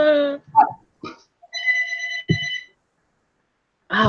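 A mobile phone rings indoors during a morning workday, a clear electronic melodic ringtone sounding in short bursts, with brief bits of voice nearby before and after.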